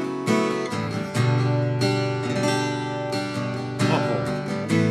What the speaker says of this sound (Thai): อันนี้คือเสียงอะคูสติก ใช่ครับ เสียงเปล่าๆของมันเลย